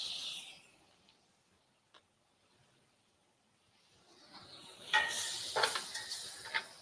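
Butter melting in a hot pan on reduced heat, a quiet hiss that fades away, then rises into louder foaming sizzle and crackle toward the end.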